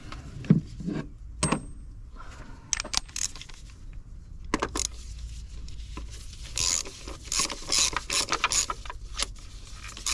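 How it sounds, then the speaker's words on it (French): Mechanical clicks and rattles from a ratchet wrench during an oil change on a VW Golf 6 GTD, with irregular close-up ticks and metallic taps scattered among workshop handling noises; no one talks. "Un petit coup de cliquet avec les doigts pleins d'huile."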